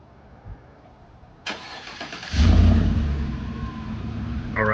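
A car with a deleted muffler cold-starts: a short starter crank, then the engine catches with a loud, deep rumble that settles into a rough, steady idle nearby.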